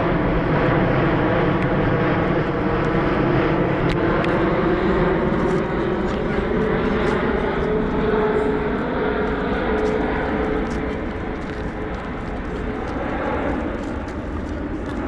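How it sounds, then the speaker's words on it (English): A large airplane passes overhead at an outdoor protest near Windsor Castle, a loud, broad roar that is steady throughout and fades slightly toward the end, with some voices under it. "Big plane going over."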